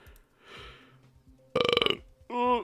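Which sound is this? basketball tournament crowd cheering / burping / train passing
burping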